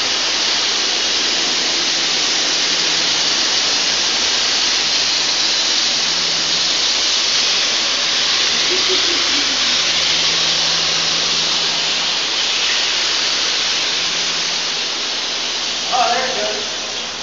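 An accidentally tripped fire deluge sprinkler system sends a loud, continuous roar of water, like a heavy downpour, while people talk over it.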